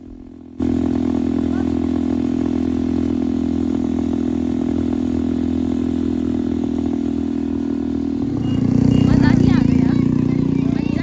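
A motorcycle engine drones steadily up close during a beach bike ride in Daman, then revs louder toward the end, with people talking over it.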